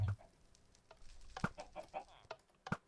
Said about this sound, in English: So there's chickens up there, and they're laying eggs into the dispenser